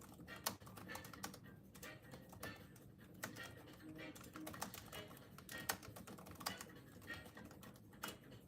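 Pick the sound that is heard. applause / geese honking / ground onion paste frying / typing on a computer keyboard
typing on a computer keyboard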